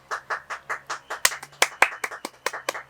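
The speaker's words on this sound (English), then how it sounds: "Kai, I told you to clap" Rhythmic hand clapping, about a dozen sharp claps at a steady pace, close by with no talking.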